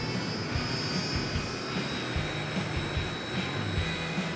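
A Blue Impulse jet aircraft engine runs steadily during preflight checks with a loud, broad roar and a high whine on top, no voices.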